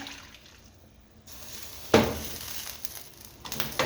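Warm, nearly boiled water poured into a cooking pot for Jamaican homestyle chicken, a short soft splash near the middle, followed by quiet sizzling and trickling at low volume.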